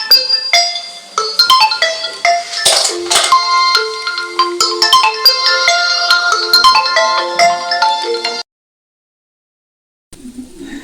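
A mobile phone ringtone plays a bright, repeating electronic melody loudly and close for about eight seconds, stops abruptly, then briefly starts again after a short silence.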